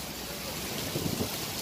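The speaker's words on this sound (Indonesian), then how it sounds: "Pelabuhan Merak turun hujan guys. Hujan turun hujan deras," Heavy rain falls at Merak port in Banten, a steady broadband wash with a few louder bursts near the end, close and continuous with no talk over it.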